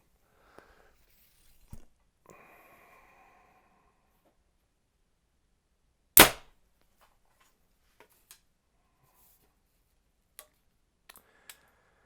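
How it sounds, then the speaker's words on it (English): Quiet surroundings broken by one sharp, loud snap of a compound bow firing, followed by a few faint scattered clicks. "This bow does seem a bit loud down here now that we're in a box."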